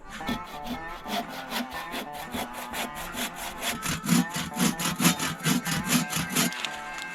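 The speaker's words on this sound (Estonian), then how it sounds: "siis tuleb naised ja hakkavad naised saagima" A hand saw rasps steadily through firewood at a forest hut in Estonia, in quick, even back-and-forth strokes, close and continuous for several seconds.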